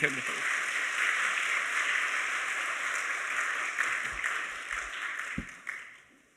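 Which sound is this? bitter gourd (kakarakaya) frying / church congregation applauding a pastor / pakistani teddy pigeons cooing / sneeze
church congregation applauding a pastor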